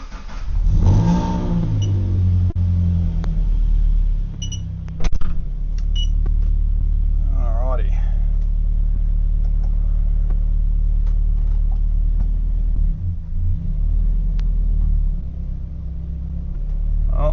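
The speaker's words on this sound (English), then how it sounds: "We're going to start it up and see if the thing goes into gear" Car engine idling and pulling steadily in gear after a new gearbox and clutch fit, a loud continuous low rumble with a brief rev surge early, running alone without talk.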